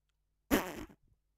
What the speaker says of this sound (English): No farting in the stream, please.